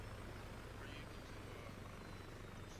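A helicopter flies in a video game, giving a low, steady rotor drone with a faint engine whine above it, held at even, quiet loudness throughout.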